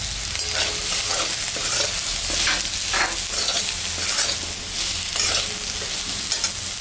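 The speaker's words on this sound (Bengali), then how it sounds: "আলুটা লাল লাল করে ভাজা করে নিয়েছি এখন আমি স্বাদ মতন লবণ আর পরিমাণ মতন হলুদটা দিয়ে দেব" Fried potatoes with salt and turmeric are stirred in a hot pan, a continuous close sizzle broken by repeated scraping strokes of the spoon. No voices.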